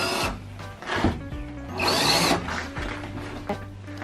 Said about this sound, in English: new favorite solution is to just drill everything out